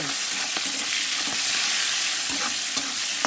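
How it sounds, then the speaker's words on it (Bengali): Crab pieces fry in a pan with green chillies, giving a steady, loud sizzle with scattered sharp clicks and scrapes from stirring throughout, close up and without voices. "এবার এই কটা কাঁকড়া দিয়ে আর কী করবো, এই যে কাঁকড়াটা ভেজে ফেলি। কাঁচা লঙ্কা ফেলে"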